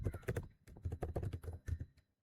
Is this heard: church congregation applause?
no